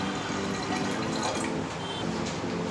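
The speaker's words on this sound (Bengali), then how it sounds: "এবারে এটাতে আমি বেশ কিছু পরিমাণ জল দিয়ে দেব।" Water pouring into a pressure cooker holding dal and rajma for dal makhani, a continuous splashing fill lasting about three seconds, close and steady, with no one talking.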